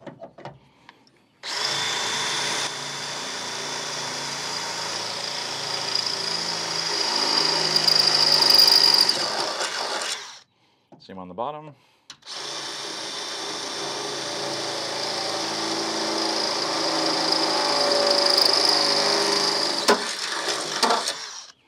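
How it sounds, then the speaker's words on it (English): A power drill whines loudly and steadily, drilling holes into wood for a Toyota Tacoma bed stiffener for several seconds, pauses briefly while someone speaks, then drills again for a long second run. "we're gonna do is just go ahead and drill out these other 2 holes here"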